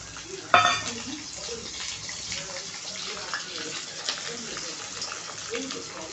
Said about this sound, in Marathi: आता आपण बोंबील तळून घ्यायचे आहेत धुतलेले।